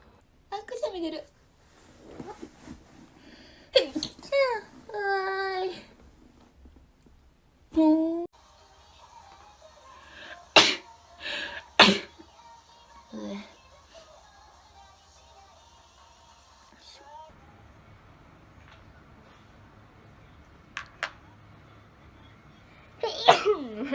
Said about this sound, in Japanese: 突然くしゃみが出たよ。